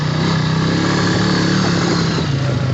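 Polaris Sportsman 450 ATV engine running hard on a trail, a loud, steady close-up drone with low harmonic throb and continuous revving throughout, no voices over it.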